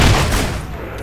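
An explosive barrel blows up in the video game Fable 3, a loud, close blast at the very start that rumbles and fades over about a second, with no talk over it.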